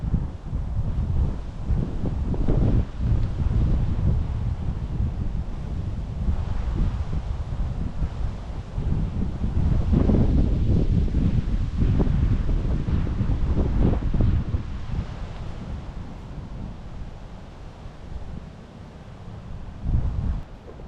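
Steady wind rushes and buffets across a microphone on an outdoor disc golf course, with gusts swelling and easing throughout, loud and close with rustling underneath.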